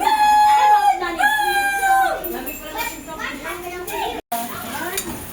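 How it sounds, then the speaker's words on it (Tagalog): Pancit noodles sizzle and are stirred in a pan, a steady frying hiss with scraping, while a rooster crows nearby and voices carry in the background. "Nagluluto ako ng pansit para may makain tayo mamaya"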